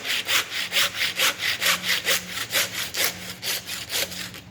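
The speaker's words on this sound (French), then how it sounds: "on scie les os" A hand saw cutting through veal bones during butchery of the forequarter, heard as close, loud, rhythmic back-and-forth rasping strokes at a steady pace, about three strokes per second.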